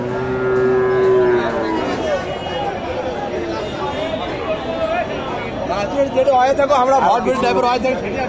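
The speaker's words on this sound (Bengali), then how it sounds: "সুন্দর একটা ফ্রিজিয়ান বকনা" A Friesian heifer lets out a loud, drawn-out moo at a busy cattle market in Bogura, followed by crowd chatter and overlapping voices of people talking nearby.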